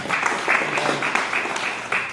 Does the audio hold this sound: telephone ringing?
no